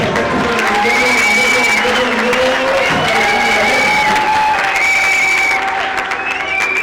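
A church congregation at a prayer gathering applauds and cheers steadily. The loud, dense clapping holds throughout, with voices and a sustained musical tone running underneath.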